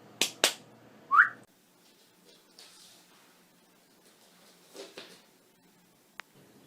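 A person makes one brief, thin rising whistle while trying to call a corgi puppy indoors. A few sharp taps and soft rustles come before and after it, and the whistle is quiet and short.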